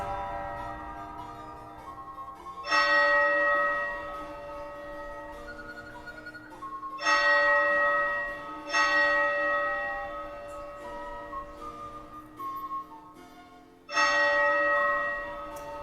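A church bell tolls slowly for a death, single struck notes spaced several seconds apart with long ringing decays, heard alone at moderate volume.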